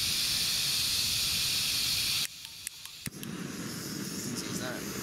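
A small windproof camping stove burns on a riverbank with a steady, fairly loud roaring hiss. Partway through, the hiss drops away abruptly and a few clicks follow, leaving quieter background noise.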